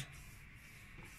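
Pastry dough for a hazelnut-filled Giresun pastry is rolled out with a wooden rolling pin, giving a soft, continuous close rubbing sound with no talk.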